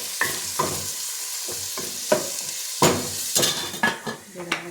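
Vegetables for a vegetable soup frying in a pan, with a steady sizzle broken by repeated scraping stirs of a utensil against the pan, close and loud, no talking.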